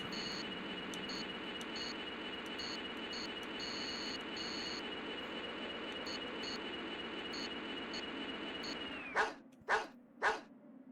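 In the Mega Man Legends video game, a steady electronic buzzing tone with a repeating beeping pattern runs for several seconds, then cuts off and three short, loud dog barks follow in quick succession.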